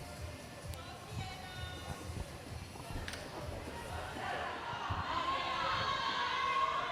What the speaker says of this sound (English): You can hear the crowd calling out in support.